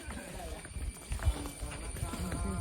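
Horse hooves clip-clop at a steady trotting pace on a hill-station path in Matheran, fairly close, with voices talking over the hoofbeats.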